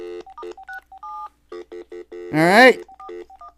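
Touch-tone telephone keypad dialing a number: a quick series of short beeps, broken by a longer ringing tone burst, loud and close, with a brief spoken word.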